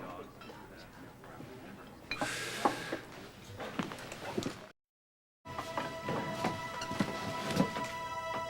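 Steady rain falls through a stormy night with occasional rumbling thunder, heard faintly indoors under the drama's background music, cut by a brief silent gap partway through.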